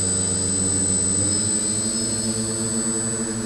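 A DJI Flame Wheel 450 quadcopter fitted with 8-inch props runs its motors at full throttle, giving a loud, steady, close buzzing whine with layered harmonic tones and no talking.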